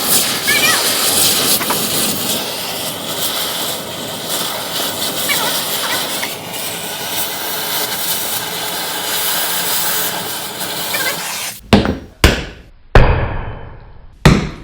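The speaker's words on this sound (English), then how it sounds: "You just light them on fire and punch them out." Burning subframe bushings are punched out of a Nissan S14 during a 350Z differential swap, with a steady roaring hiss of flame followed by several sharp, loud metallic bangs near the end.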